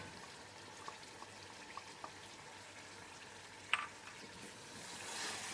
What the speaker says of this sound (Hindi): अब टमाटरों के साथ हम इसको अच्छा सा भून लेंगे।